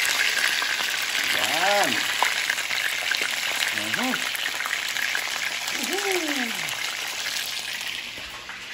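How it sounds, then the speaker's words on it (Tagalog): Catfish frying in hot oil in a pot gives a loud, steady, close sizzle that hisses without break, while a voice speaks briefly now and then over the crackle. "Ayan po, iprito po muna natin siya"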